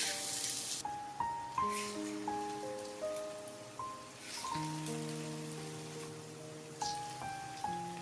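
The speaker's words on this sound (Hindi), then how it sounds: "तो अब हम इसको फ्राई करते हैं।" Potato pakoras frying in about half a cup of hot oil in a pan give a steady sizzle under prominent melodic background music.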